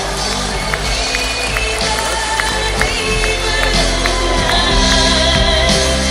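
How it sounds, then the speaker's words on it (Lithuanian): Audience applause for Leonsonov and Jazzu at a 2014 award show, a dense, steady roar of clapping and crowd noise with scattered whoops, loud and continuous throughout. "Leonsonov ir Jazzu, dar kartą Jums plojimai"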